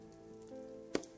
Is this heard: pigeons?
no